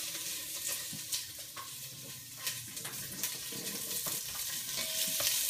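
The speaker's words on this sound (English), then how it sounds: "We're going to take this 6 ounces of bacon and dump it right in that pan until that gets a little bit brown for us." Six ounces of bacon browning in a frying pan, a steady crackling sizzle with faint stirring scrapes and small pops running throughout, fairly quiet and close, with no talking.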